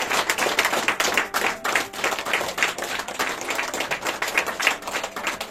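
A church congregation claps and applauds to acclaim the Lord, many hands beating in a steady, lively rhythm that stays loud and close throughout, with no speech.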